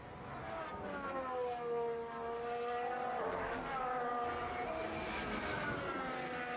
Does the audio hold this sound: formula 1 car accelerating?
yes